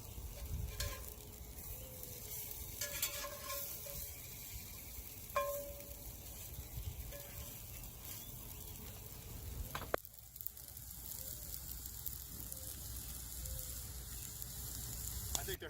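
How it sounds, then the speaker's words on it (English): Cornmeal hoe cakes fry in a pan with a steady, soft sizzle and crackle, some light clinks of a spatula or pan, faint and continuous. "they've been cooking on both sides for a minute now, and I've heard them sizzling"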